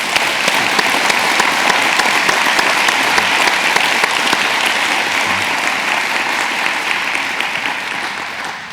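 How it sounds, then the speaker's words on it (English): Audience at a college Family Weekend counseling workshop breaks into loud, dense applause that holds steady for several seconds before gradually thinning toward the end. "Can we give them a round of applause?"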